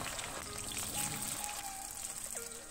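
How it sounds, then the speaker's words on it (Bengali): Taro roots dropped into hot oil in a pan give a quiet, steady sizzle and crackle with scattered pops, faint and continuous without talk. "তেল খুব ভালোভাবে গরম হওয়ার পরে এর মধ্যে আমি গাঠি কচুগুলো দিয়ে দিলাম।"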